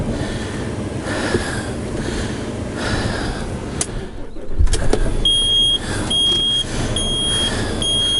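A camper van's engine starts up and the vehicle rolls a few metres with a steady mid-level motor hum. A brief quieter gap comes partway through, followed by repeated high electronic beeps.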